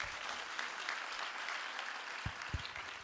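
Steady applause from an audience at a live religious commemoration event, broad and continuous for the whole stretch, with a couple of brief low thumps near the end.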